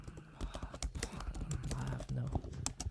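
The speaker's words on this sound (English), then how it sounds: "Who's typing?" Rapid clicking of keys on a computer keyboard, close and irregular, runs under people talking casually.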